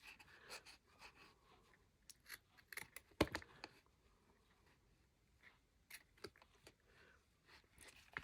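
Small scissors snip iron-on transfer paper in a few quiet, scattered bursts of crunchy cutting, with one sharper louder snip near the middle and faint rustling in between.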